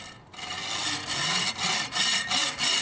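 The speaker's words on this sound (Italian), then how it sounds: "prendiamo una sega da ferro e la tagliamo" A hand hacksaw cuts through a steel bicycle spoke, rasping back-and-forth strokes in a steady rhythm, close and fairly loud, with no talk.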